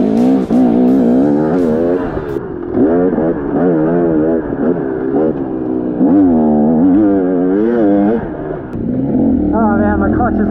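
A 2019 KTM 250XC two-stroke dirt bike engine revs up and down continuously while being ridden, with loud, rising and falling pitch sweeps and a brief dip in throttle near the end.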